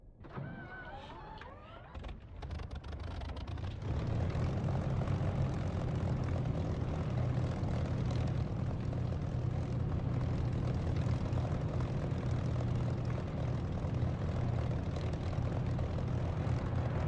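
Aircraft engine running steadily in the DCS flight simulator before takeoff, starting with quieter mechanical whirring and settling after a few seconds into a loud, continuous drone that holds at full level throughout.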